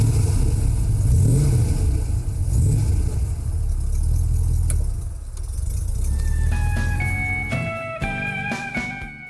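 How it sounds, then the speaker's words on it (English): A 1956 BMW 503 with a light alloy V8 engine revs steadily with a deep, full engine note, rising and falling, then fades as sustained tonal notes enter near the end. "It was the first mass-produced car with a light alloy V8 engine, and the sound was music to the ear."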